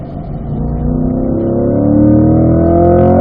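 A race car engine, just downshifted to third, revs rising steadily and loudly as it accelerates out of a corner on a track, with clear climbing engine tones heard close up.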